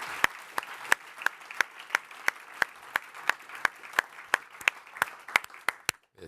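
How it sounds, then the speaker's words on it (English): Sparse, evenly spaced claps ring out at a cheftastic scholarship competition livestream, a thin round of applause from a small audience, about eighteen sharp hand strikes over a steady room hum, with no talking. "a round of applause"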